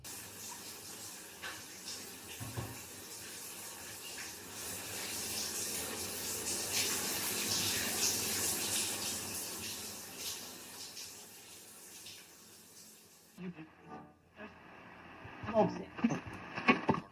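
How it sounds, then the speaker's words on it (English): Hot water rushing from a shower, a dense steady hiss that builds and then cuts off, followed by scattered quieter knocks and rustles. "turned on the hot water"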